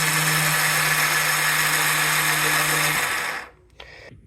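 Yamaha Rhino 450 side-by-side starter with a faulty one-way sprag clutch, a loud continuous whirring and grinding with a steady hum that runs for about three seconds, then cuts off into near silence with a brief faint clatter.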